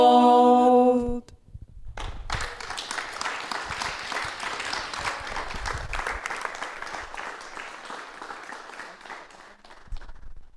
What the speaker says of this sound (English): the sound of your applause, a little less than I expected